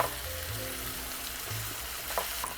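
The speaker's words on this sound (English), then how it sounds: "mix up the egg while it's still sizzling" An egg sizzles in a hot pan on salmon sisig, a faint, steady crackling fry with soft stirring noises close by and no voices.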